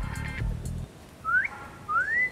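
After a short burst of low rumbling noise, a person whistles two rising, sliding tones, the second longer and arching, fairly clear and close.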